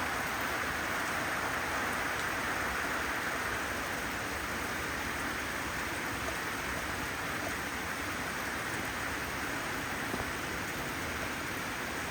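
Steady rain pours down continuously in an outdoor rural setting, a dense, even hiss that stays loud and unbroken throughout with no voices over it.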